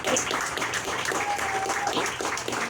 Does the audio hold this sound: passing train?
no